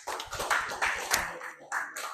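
A classroom of students clapping for a presenting group during a physical education lesson on first aid, a short burst of quick, uneven claps from a small crowd, fairly close, with some faint voices mixed in.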